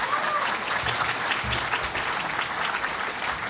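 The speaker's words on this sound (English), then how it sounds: "And maybe first we can have a round of applause." An audience at a live panel event applauds steadily, with dense, even clapping that holds loud and unbroken throughout, and no voices rise above it.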